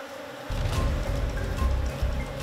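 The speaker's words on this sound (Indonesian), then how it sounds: "Sarang ini dihuni oleh koloni lebah yang lebih besar. Saking banyaknya, dengung suaranya nyaring mengitari kami" Loud, dense buzzing of a large honeybee colony swarming close around its nest, starting abruptly and holding steady throughout.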